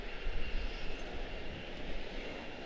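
Steady broadband roar of an aircraft engine at Charlotte Douglas airport, continuous and fairly even in level, with no voices present.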